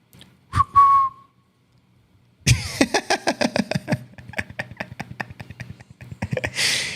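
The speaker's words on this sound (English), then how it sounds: "as soon as I whistled" Someone whistles to call a dog: one sharp short whistle, a pause, then a quick series of rhythmic whistled chirps, close and clear with no talking.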